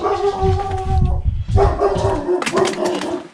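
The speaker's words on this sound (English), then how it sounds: "You can hear the dog upstairs." A dog upstairs in a house barks and yips in loud, repeated bursts with whimpering, howl-like tones between them, heard indoors at moderate distance.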